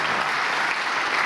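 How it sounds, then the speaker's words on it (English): An audience at a presentation on TV advertising and viewing gives a brief burst of dense, steady clapping, with no voices over it. "Round of applause, everyone."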